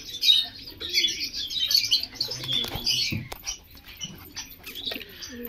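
Pigeons, black males and white females kept as flying birds, coo and flutter in their wooden box, with soft bird chirps, scratching and wing movement at close range throughout.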